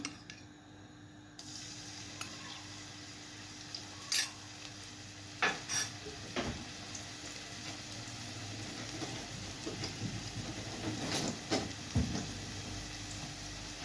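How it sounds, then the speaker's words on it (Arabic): Garlic frying in oil in a pan, a steady quiet sizzle with occasional clinks of a utensil against the pan and brief stirring scrapes, close and without talk. "اول حاجة عندي طاسة هنا حطيت عليها الزيت، هحط الثوم بتاعي"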